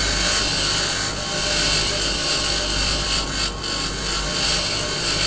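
A grinder tool from the game Occupy Mars runs as a steady, loud abrasive whir with a scraping grind that slightly dips and swells over five seconds, with no voices.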